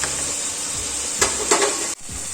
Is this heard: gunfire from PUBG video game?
no